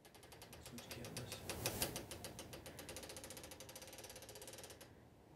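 A quilting frame mechanism rolls a quilt onto its rails, giving off a quiet, rapid train of ratcheting clicks that swells slightly and then stops abruptly.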